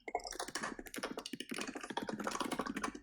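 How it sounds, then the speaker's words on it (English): Rapid, irregular clatter of keys being typed on a computer keyboard, picked up over an open microphone during an online lecture, close and fairly steady throughout. "Whoever's typing, can you mute your mic?"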